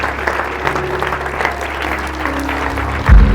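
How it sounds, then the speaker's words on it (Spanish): A church congregation at an evangelical service claps loudly and steadily together, a dense sustained wash of applause with a low musical hum beneath and a thump near the end. "Un fuerte aplauso al Señor."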